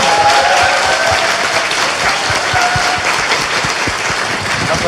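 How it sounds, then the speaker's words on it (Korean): Studio audience applause on a Korean talk show, a dense and fairly loud burst of clapping that holds steady for several seconds with no talk over it. "박수 부탁드립니다."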